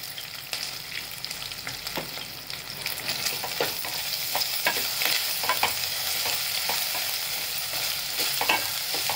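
Cumin, mustard seeds and asafoetida sizzle in hot oil for a veg pulao, giving a steady close crackle broken by frequent small pops and stirring scrapes. No voices.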